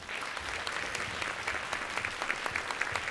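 An audience claps steadily and warmly for Ainu women at a festival talk session, dense sustained applause without pause and no speech over it.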